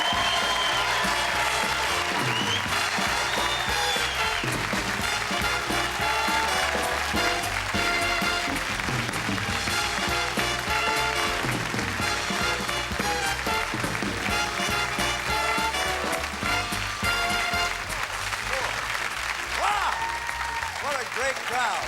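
A live stand-up crowd greets a comedian's entrance with long, sustained applause and cheering that runs unbroken over a bed of entrance music, full and close throughout.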